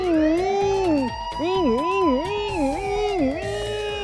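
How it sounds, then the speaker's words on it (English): A police siren wails in a rising-and-falling pattern, loud and close, its long opening tone breaking into quick repeated swoops. "there's 1 police car!"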